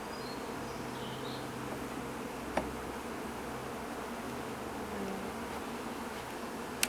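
Honey bees buzz steadily around an opened hive that is being split during urban beekeeping, a dense, continuous insect drone close by with a couple of faint knocks.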